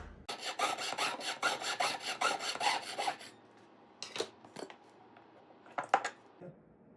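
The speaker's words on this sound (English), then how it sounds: "we're gonna take our piece of gold, we're gonna score it, and then cut that." A piece of gold being scored and cut while rings are repurposed into a ring guard: a quick run of quiet, even rasping strokes, then a few scattered sharp scrapes and snips.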